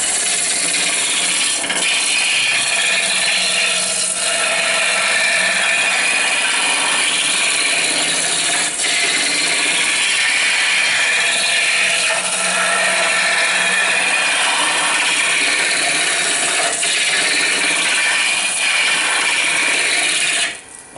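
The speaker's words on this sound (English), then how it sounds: "with this particular tool, the shavings make little wheels and they'll roll off of the lathe once it gets completely round" Wood turning on a lathe, a cutting tool held against the spinning workpiece and throwing curled shavings, gives a continuous loud scraping hiss that holds steady for the whole stretch with slight variations and stops abruptly at the end.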